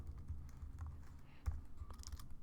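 Faint keystrokes clatter irregularly on a computer keyboard while someone enters Java code, soft and close with no talk.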